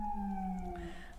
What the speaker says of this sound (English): Sorry for any sirens in the background.